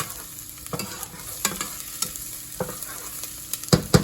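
About six or seven cloves of garlic sizzling in olive oil over medium-high heat, with a steady fry hiss broken by several scraping stirs of a utensil against the pan, the loudest near the end.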